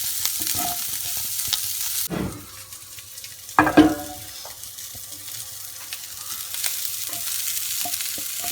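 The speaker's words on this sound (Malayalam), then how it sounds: "നമുക്കിനി ഓയിൽ ഒഴിച്ച് ചെറുതായിട്ട് വഴറ്റിയെടുക്കുക" Prawns are sautéed in oil in a pan for prawn roast. A soft sizzle runs throughout, with scraping stirs and a couple of sharper utensil clatters near the middle.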